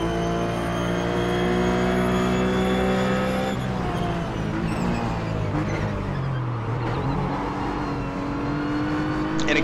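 RUF race car engine sounds in iRacing at Twin Ring Motegi, a loud sustained drone with steady tonal harmonics that shift and dip mid-clip as the engine note changes, likely under braking and downshifting.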